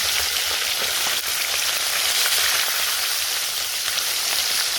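Steady, dense sizzling of small fish frying in hot oil, continuous crackle throughout with no voices.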